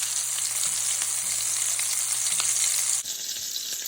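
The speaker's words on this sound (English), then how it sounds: "Oh, do you see that sizzle?" Turkey and zucchini meatballs browning in a pan give a close, steady, crackling sizzle throughout, with a faint low hum that drops out near the end, and no voices.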